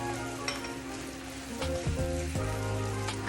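Onions and a chopped tomato sizzle loudly in a frying pan, a dense crackling fry that runs without a break. Partway through there is a short clatter and a scrape as the tomato goes in and is stirred.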